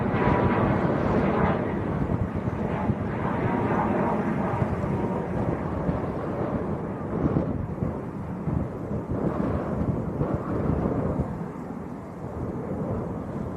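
A Ryanair passenger jet passes at Manchester Airport on a windy day, a broad continuous roar with gusty wind buffeting the microphone throughout.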